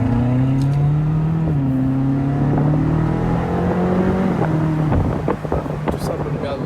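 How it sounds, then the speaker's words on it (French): A Ferrari California V8 idles and revs gently with its exhaust valves opening, a deep steady rumble with rising engine tones up close, some wind buffeting and a voice speaking over it. "juste écouter le V8, regarde, on va juste entendre les clapets qui vont s'ouvrir"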